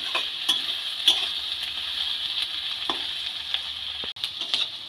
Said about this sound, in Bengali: সমস্ত সবজিগুলো খুব ভালো করে ভেজে নেব।